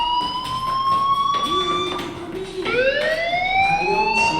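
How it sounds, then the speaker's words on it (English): Fire alarm in the video game Life Is Strange, a steady loud electronic siren-like tone that rises and shifts pitch partway through, continuous over the game's soft background. "do you hear that fire alarm?"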